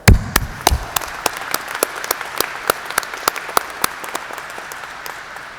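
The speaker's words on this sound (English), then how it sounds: "I think you all deserve a big round of applause" At a 2021 community college spring graduation ceremony, a small audience claps sparsely: distinct, individual hand claps ring out at an uneven, unhurried pace, with a louder flurry at the start.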